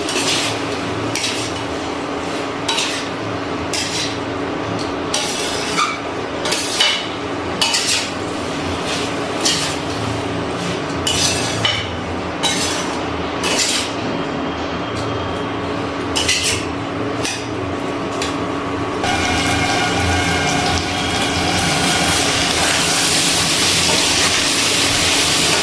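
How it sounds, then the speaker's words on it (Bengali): Chayote squash curry with prawns is stirred and sautéed in a pan: repeated metallic scrapes and clinks of a utensil over a steady sizzle that grows louder and hissier toward the end. "এবার খুব ভালো করে সব কিছু মিশিয়ে আরও একবার কষিয়ে নিচ্ছি।"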